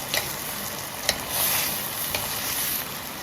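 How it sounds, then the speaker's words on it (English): Vegetables sautéing together in a pan with a red wine vinegar glaze give a steady close sizzle, broken by a few light utensil taps and stirring scrapes, with no talk. "saute these up all together like this"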